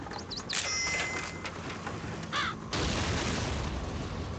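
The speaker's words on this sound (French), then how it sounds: "c'est des oiseaux qui explosent" Birds bursting apart in the video game Thirty Flights of Loving, heard as a few short bird-like squawks followed by a loud, sustained burst of noise, with no talking over it.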